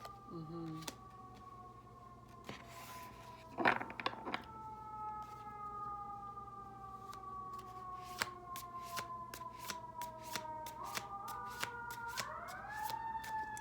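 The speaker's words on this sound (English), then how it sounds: "Can you hear that loud siren?" A long, slowly falling siren wail drones on in the distance, with a brief shuffle of cards partway through and faint background noise.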